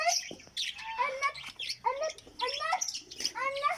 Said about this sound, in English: oh wow they are pigeons